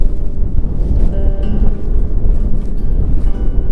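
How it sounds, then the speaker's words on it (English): Very loud, strong wind blasts the microphone at an overlook on the Lost Coast, producing a continuous deep, buffeting roar with constant low rumbling and no speech. "Now it's very, very windy, so I'm not even sure if you can hear me"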